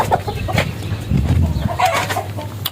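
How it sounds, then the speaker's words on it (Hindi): A hen clucks repeatedly in short bursts, close by, near pigeon cages, amid background bird chatter and rustling. "ये मुर्गी किधर से निकल रही है कबूतरों के पिंजरे से"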